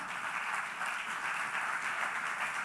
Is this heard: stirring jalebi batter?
no